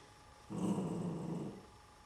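A dog gives one sustained low growling bark-like vocalization lasting about a second, close and fairly loud, during a counting lesson, with no speech over it.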